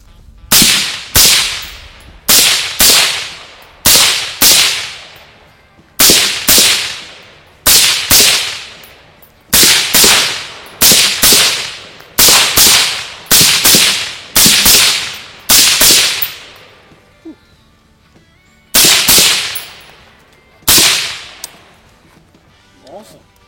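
A firearm fires repeatedly at an outdoor range, with around seventeen loud, sharp reports that each ring out and decay, in uneven bursts and pauses.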